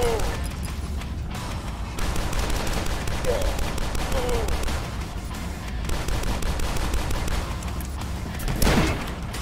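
Heavy gunfire in the video game DUSK, rapid loud shots and blasts coming thick and fast over a constant roar of combat, with a sharper burst near the end.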